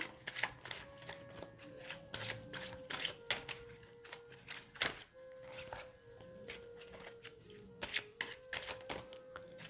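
A tarot card deck being shuffled gives quick, quiet riffles and papery clicks in irregular clusters, with a soft sustained tone running underneath.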